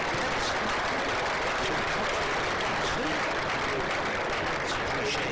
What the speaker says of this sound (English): it's appreciated by the home crowd